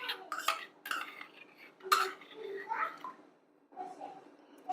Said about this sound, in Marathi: असं मिक्स करून घ्यायचं पूर्ण दुधामध्ये.